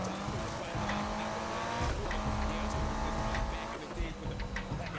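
Racing car in a Need for Speed game: a loud, continuous engine roar with shifting revs and tire squeal throughout, filling the whole stretch with no pause.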